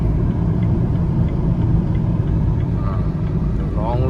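A 2010 Chevrolet Captiva with a 2000 cc diesel engine drives along, its steady low engine and road rumble filling the cabin at an even, constant level.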